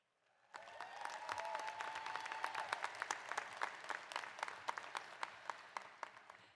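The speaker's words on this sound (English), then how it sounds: "Please join me in giving these dedicated individuals a warm round of applause." A graduation crowd gives the college trustees a warm round of applause at a spring commencement ceremony. Distinct individual claps ring out over a soft crowd wash, rising after a quiet start and holding steady throughout.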